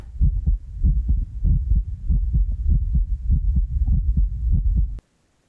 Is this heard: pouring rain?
no